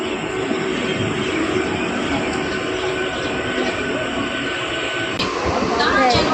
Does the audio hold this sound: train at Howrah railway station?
yes